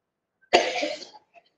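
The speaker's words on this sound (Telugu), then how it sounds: "దగ్గు ఎందుకు వచ్చింది?" A single harsh cough bursts out during a breathing-exercise and pranayama session, one close, loud rasping cough lasting about half a second, then a soft trailing breath.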